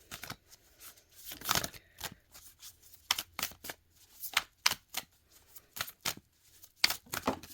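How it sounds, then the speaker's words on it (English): Oracle cards are shuffled and pulled in a quiet room, giving crisp riffling bursts and sharp slaps that come in close, irregular clusters. "Let me pull one more card."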